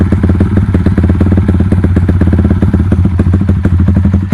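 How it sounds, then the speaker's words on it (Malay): A loud motorcycle engine idles close by, its exhaust giving a deep, steady rumble with a quick, even pulsing beat. "dengar bunyi motor aku?"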